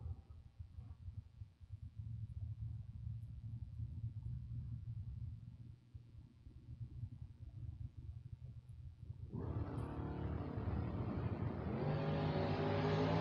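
A second-generation Chevrolet Camaro and a split-window Corvette at a drag strip: a steady low engine rumble, then a loud, sustained roar of hard acceleration rising in pitch as the cars launch.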